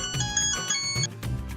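A phone ringtone sounds in a domestic comedy-drama scene as a kidnapper calls, playing a bright, melodic electronic pattern that repeats in steady pulses, clear and alone without voices.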